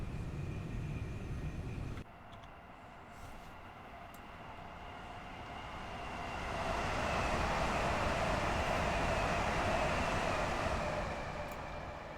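A train from London Victoria to Littlehampton runs near a viaduct, a steady low rumble and rail roar heard from inside that swells and brightens midway, then eases slightly, with no talking.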